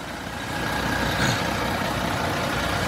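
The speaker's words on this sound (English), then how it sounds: "Got a Euro 6 Volvo engine, 11 litre, rumbling away." A 2015 Volvo B11R Caetano Levante coach with an 11-litre Euro 6 Volvo engine idles close by, a steady low diesel rumble that stays even throughout.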